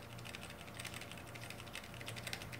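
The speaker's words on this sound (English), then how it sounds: "I'm furiously clicking the delete button" A computer keyboard's delete key is pressed rapidly over and over to enter the BIOS on an Intel 6700K build; quick, faint clicks come in a steady flurry over a low electronic hum.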